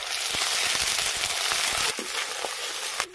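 Ginger and garlic paste fries in hot oil with bay leaves and whole cumin for a rohu fish curry, a loud steady sizzle with crackling pops and occasional stirring clinks, close and continuous before easing slightly near the end.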